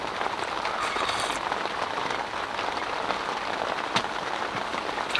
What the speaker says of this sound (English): I've got the door up at the minute just because of how heavy it's raining